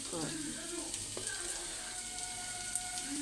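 Tomato, onion, coconut, ginger and garlic sauté in a hot pan for aloo masala curry, giving a steady close sizzle with occasional stirring scrapes and no talking.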